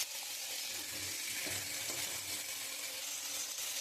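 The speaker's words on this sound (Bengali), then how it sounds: "এখানে কুমড়ো আর আলুটা একটু লাল লাল করে ভেজে নেবো" Pumpkin and potato frying in hot oil in a wok, a steady close sizzle with soft stirring scrapes running throughout, no voices.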